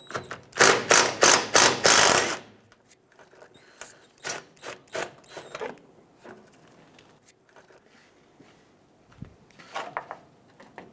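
A ratchet wrench loosens 8mm bolts on the air deflector of a 2008-2010 Ford F-250 Super Duty, with a fast run of loud clicking ratchet strokes followed by quieter, sparser clicks and rattles.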